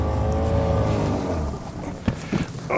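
An outboard motor drones steadily on a small boat during a duck hunt, struggling through grass, a close continuous hum that dips and sputters near the end.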